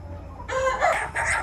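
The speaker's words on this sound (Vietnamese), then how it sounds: "Đây nha mọi người ơi, gà nòi miền Tây." Western Vietnamese fighting chickens (gà nòi) in a flock at a market give a burst of loud clucking and a short crowing call, close and clear over quiet background.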